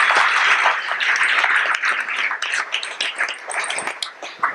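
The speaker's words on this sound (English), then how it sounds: "Round of applause for all of our sponsors." An event audience applauds the sponsors of a cannabis industry gathering in New York; a close, busy wash of clapping runs throughout and eases a little near the end.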